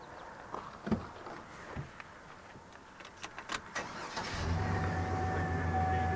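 A 2003 Chevy Silverado is cranked after wiring work and a K&N intake install, with a few clanks and clicks before the engine catches and settles into a steady idle hum.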